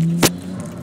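A 1999 Nissan R34 GT-R twin-turbo with a six-speed manual holds a steady low engine drone, broken by one short sharp burst as it shifts gear.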